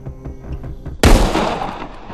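A single sniper rifle shot in the VR zombie shooter Arizona Sunshine, one sharp loud crack with a booming tail cutting through quiet ambient game sound.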